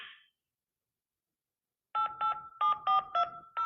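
Rapid touch-tone telephone keypad dialing: a string of about six short two-tone beeps in quick uneven rhythm, clear and close, following a brief burst of noise and a pause.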